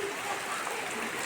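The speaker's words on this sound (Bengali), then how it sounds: "দেখুন এই যে বৃষ্টি হচ্ছে।" Rain falls steadily in a rural village, a soft, even wash of patter that stays constant and fairly faint.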